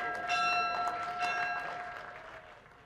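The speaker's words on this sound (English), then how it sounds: "It's an annual tradition for Caddo Parish schools ringing the bell to kick off a new school year for the district." A school bell rings to open the new school year in Caddo Parish, a bright sustained metallic ringing with repeated strikes, moderately distant amid crowd noise and fading toward the end.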